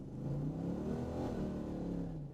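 The V8 engine of a 1976 Pontiac Trans Am revs hard and rises in pitch as it accelerates, a steady loud roar heard from inside or close by.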